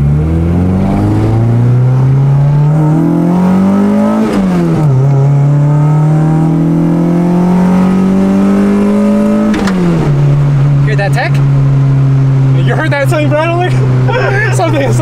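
A Honda Civic with a new, quieter exhaust accelerates hard through two pulls, its loud engine note rising steadily, dropping at a shift around five seconds, then climbing again before settling as a voice comes in near the end.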